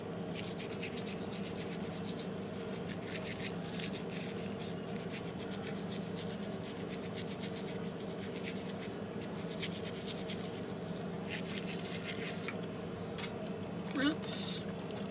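A freshly resized jewelry ring being brushed clean at a jeweler's bench, producing soft, continuous scratchy rubbing strokes over a steady background hum.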